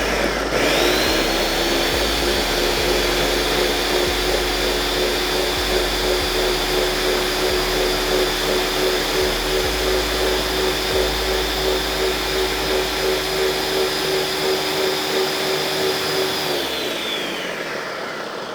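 A blender pulses a hot stuffed bell pepper mixture, a loud steady motor whir with a slight rise and fall that runs close and alone for about seventeen seconds before winding down.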